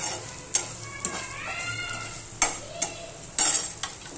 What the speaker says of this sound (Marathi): चांगले तेलामध्ये फ्राय करून घ्यायचे.